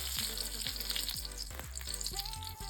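Mustard seeds, fenugreek, dried red chillies and curry leaves fry in hot oil in a pan, giving a steady close sizzle and crackle with faint tonal sounds underneath for the whole short stretch.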